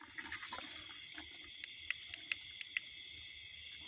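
Water streams steadily out of a fish trap in a drying paddy field where crabs are being caught. The flow makes a continuous trickling wash with a few sharp ticks and splashes, fairly close, and no one speaks.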